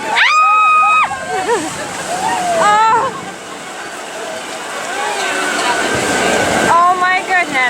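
An amphibious duck tour boat plunges into the water on a Palm Beach, Florida tour, a loud sustained rush and sloshing of water beneath excited shouts and chatter from passengers.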